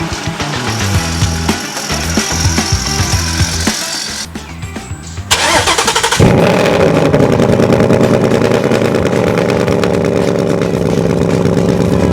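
A 2018 Ford Mustang GT V8 cranks and fires up close by, dropping into a loud, steady idle with a rich rumble after a short, uneven stretch beforehand. No voices are heard.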